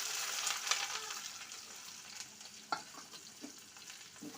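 Chopped onion fries in hot oil, a bright crackling sizzle with occasional pops and the scrape of stirring, close up and uninterrupted by talk.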